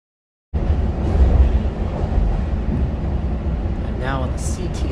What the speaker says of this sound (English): Now on the CTA train, heading towards the Loop early in the morning.